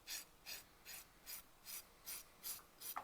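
Fingernails filed with a 100 grit file in quick, even strokes, a soft rasping scrape repeating about twice a second, close and alone.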